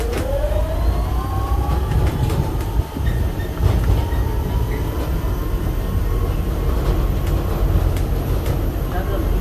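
A Sentosa beach tram rolls along in a steady, close rumble, with a long whining tone rising and falling over the running noise. Faint clicks and knocks come through, and a quiet voice may sit beneath the din.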